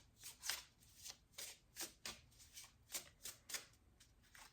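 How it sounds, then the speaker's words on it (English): A deck of self-care oracle cards is riffled and shuffled by hand, close and soft, with a steady run of about a dozen quick papery bursts and no voices. "Then we're going to take 6 of these self-care oracle cards for you next."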